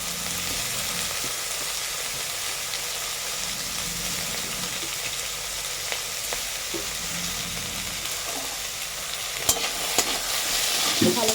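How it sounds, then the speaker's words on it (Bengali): Potatoes, vegetables, chili and tomato fry in a pan for the whole stretch, a steady close sizzle with occasional stirring scrapes and clicks, no talking. "ভালো করে ভেজে নিচ্ছি।"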